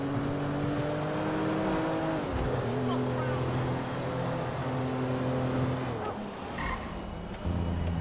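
Car driving in Grand Theft Auto V on PC: a steady engine hum with shifting revs runs throughout, fairly loud and continuous, with a brief dip near the end.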